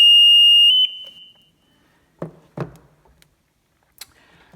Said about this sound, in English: But if it stays down and there's a no flow condition, then we'll get an alarm.